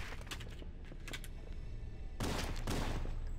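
Halo: CE gunfire sounds out as rapid sharp shots over a steady low hum, first as a cluster of quick bursts, then a louder, denser flurry near the end.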